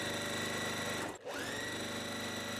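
A sewing machine stitches fabric for a quilt block, a quiet, steady mechanical whir that briefly stops and starts again, with no talk.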